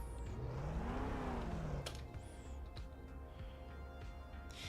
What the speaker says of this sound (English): they have the same engine sound